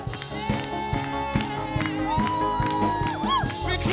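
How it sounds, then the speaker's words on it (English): A church congregation claps along in steady rhythmic beats during worship, with voices singing and calling out over the clapping throughout. "We clap to you, Lord."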